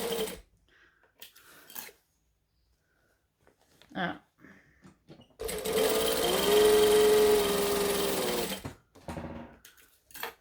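A sewing machine stitches a strap in one sustained, close burst of rapid mechanical whirring lasting a few seconds, with quieter bits of voice and handling noise before and after.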